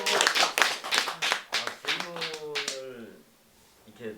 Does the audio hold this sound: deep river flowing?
no